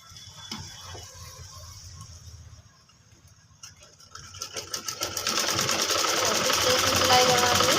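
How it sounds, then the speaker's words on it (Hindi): Sewing machine running steadily as it stitches a reversed strip onto a kurti coat collar, quiet at first, then building into a loud, continuous rapid whir near the end. "इस तरह से मैंने एक पट्टी ले ली और इसको उल्टा साइड रखकर सिलाई लगा देंगे।"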